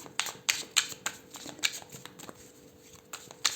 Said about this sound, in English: I actually already shuffled the cards